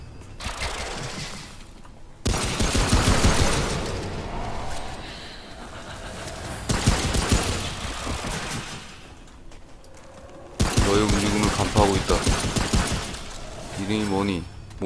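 Gunfire in the video game Remnant: From the Ashes, with bursts of rapid shots and crunchy impacts coming in several loud bouts. Game effects and a talking player fill the quieter stretches between them.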